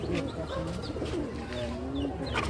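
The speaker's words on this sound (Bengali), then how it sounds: "আপনারা দেখছেন অসম্ভব সুন্দর এক জোড়া কবুতর" A pair of fancy pigeons, a male and female, coo in soft repeated rolling calls close by, with faint chirps and light background voices throughout.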